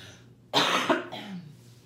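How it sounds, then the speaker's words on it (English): A single sharp cough, close and fairly quiet, with a brief rasping tail afterward. "I feel like I cough every time I come on video."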